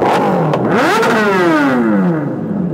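A loud, close superbike engine revs up and winds down in one sweeping surge, its pitch rising then falling steadily, with no voices.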